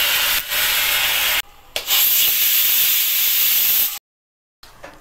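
A pressure cooker on a gas stove, cooking for a fasting meal, vents steam in a loud, close, sustained hiss with a brief dip partway through. It then cuts off abruptly, with no voices.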